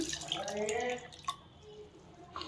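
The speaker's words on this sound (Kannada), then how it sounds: "ನಾನಿಲ್ಲಿ ಒಂದು ಕಪ್ಪಷ್ಟು ಹಾಲನ್ನು ಹಾಕ್ತಾಯಿದ್ದೀನಿ" About a cup of milk pours into a mixer jar holding sliced dragon fruit, making a faint, close trickle with a few drips that fades after a second or so.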